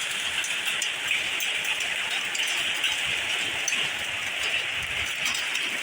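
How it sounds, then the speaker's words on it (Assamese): A heavy hailstorm with downpour at Kakopathar, with rain and hailstones drumming on a tin roof, makes a dense, steady hiss-like roar that stays loud and unbroken throughout. "শিল বৰষুণ দিয়া দেখা গৈছে আৰু বহুত ডাঙৰকৈ বৰষুণ দিছে।"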